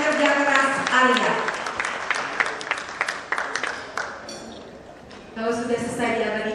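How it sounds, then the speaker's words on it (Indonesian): Warm applause from the audience at a press conference for a colossal dance drama, as the choreographers are honored. Steady crowd clapping fills most of the stretch, then fades, and a voice speaks over the tail end. "Ini dia kita beri tepuk tangan yang meriah untuk para seniman luar biasa di balik kesuksesan dan kerja keras Alia."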